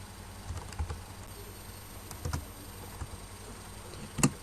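Someone types on a computer keyboard in scattered, close keystroke clicks over a steady low background hum, ending with one louder tap.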